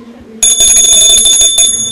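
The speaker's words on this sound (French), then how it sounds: "Oh, cloche cristalline" A bright, crystal-clear bell rings with sustained shimmering high tones that start abruptly and hold for over a second, loud and close.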